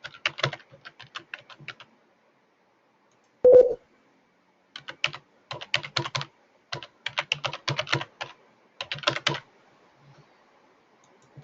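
Username and password typed on a computer keyboard, bursts of crisp key clicks in several quick runs separated by pauses, with one heavier clack partway through, close and clear in a quiet room.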